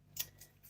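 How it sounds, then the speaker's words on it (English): Kitchen scissors snip fresh mint leaves up close, one crisp cut followed by two fainter snips in quick succession in a quiet room. "I love just using my scissors quickly"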